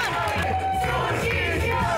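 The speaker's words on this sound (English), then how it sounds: "Cheer them up, guys!" Crowd cheering and shouting encouragement at a sushi cooking competition season finale, a dense, steady roar of voices and whoops filling the room throughout.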